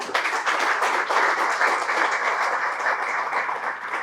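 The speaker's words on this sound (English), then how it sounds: "So please clap for him" An audience in a lecture hall breaks into steady applause, a dense, even wash of many hands clapping that holds at moderate loudness for several seconds without voices.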